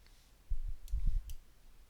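Several quiet computer mouse clicks come in a quick irregular cluster while working in PixInsight software, close and faint against a near-silent background.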